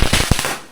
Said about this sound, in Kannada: ಪಟಾಕಿ ಇಟ್ಟಿದ್ದಾರೆ